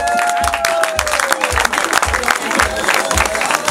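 Audience applauding at a single launch event, steady rhythmic clapping with some cheering and voices mixed in, fairly loud and close throughout.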